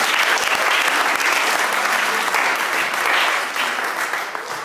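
Church congregation clapping and cheering in sustained, dense applause, loud and continuous throughout with no pauses.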